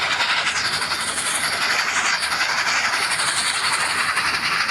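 A train in the Roblox game Dead Rails moves along with a steady, loud hissing rush and rumble that runs continuously without pause.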